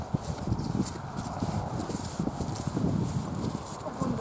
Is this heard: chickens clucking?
no